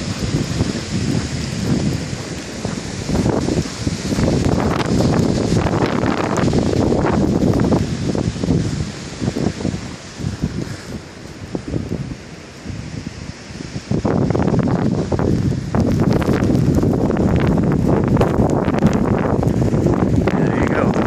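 Blizzard wind roars down a snowy street in Maine, buffeting the microphone in loud, rushing gusts that briefly ease midway before surging back, with someone talking intermittently underneath.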